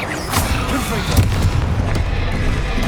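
Confringo fire spell blasts in Hogwarts Legacy combat: repeated booming impacts with crackling bursts over a dense, noisy game mix, with voices cutting in.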